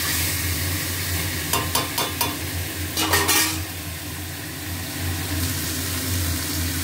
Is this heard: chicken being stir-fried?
yes